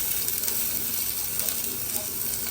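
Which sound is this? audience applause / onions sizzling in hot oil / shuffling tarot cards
onions sizzling in hot oil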